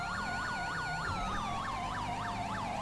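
A police siren wails in a video game police mod, sweeping up and down in a fast repeating cycle over a steady engine hum, loud and close throughout.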